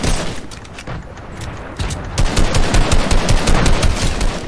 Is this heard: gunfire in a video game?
yes